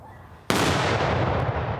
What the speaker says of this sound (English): the cannon is loaded for a second attempt